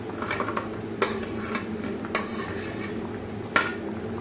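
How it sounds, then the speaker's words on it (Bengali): Fried masoor dal fritters are dropped into a simmering potato curry, with a few sharp metallic clinks of a spoon against the pot over a low steady bubbling. "এখন আমি ভেজে রাখা বড়াগুলো সবগুলো দিয়ে দেব"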